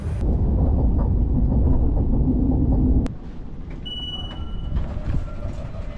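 Steady, loud rumble of a train from Paris toward the airport rolls along for about three seconds, then drops to a quieter carriage interior with a faint electronic tone and hum.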